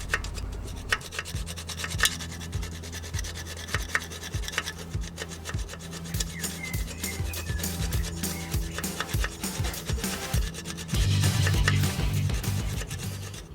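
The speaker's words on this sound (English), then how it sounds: "so I had to do a lot of filing" A round file rasps back and forth inside a hole in the metal of an AC 2 litre engine, producing steady scraping strokes in a continuous close rhythm that grows slightly heavier near the end, with no talking.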